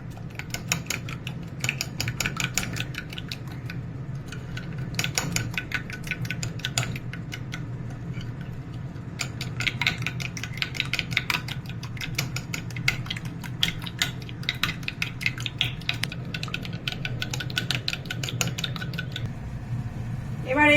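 A whisk beats yogurt and powdered sugar in a bowl, making a steady, fast run of light clicks and scrapes against the bowl that continues evenly for about twenty seconds with no talking.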